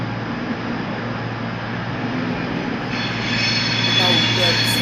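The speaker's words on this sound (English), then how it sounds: "arriving in behind me is everyone's least favourite Voyager" A Voyager diesel train pulls into Birmingham New Street station, its steady engine rumble swelling in the last two seconds over a constant platform hum, with a faint higher whine near the end.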